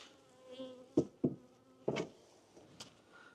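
Honey bees buzz close around an opened beehive, giving a steady insect drone. Several sharp knocks and clicks from handling the hive frames and equipment punctuate it.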